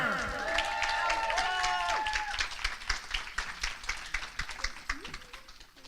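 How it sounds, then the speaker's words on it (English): An audience claps for Moneeka Sawyer at an economic freedom talk. Applause builds under tonal music and settles into scattered, rhythmic claps at moderate loudness. "let's go ahead and give a big round of applause for Moneeka Sawyer"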